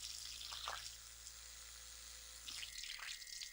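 Water flosser with several spray modes jetting a firm stream of water, heard as a steady close hiss with brief louder bursts of spray near the start and end, no talk.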